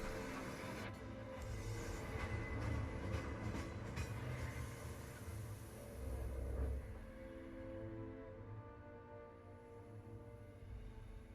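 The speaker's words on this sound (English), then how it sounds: "So we're coming with the train." Train rolling along in Final Fantasy VII Remake, a steady low rumble with rhythmic rattling and clatter throughout, fairly loud and continuous with no talking.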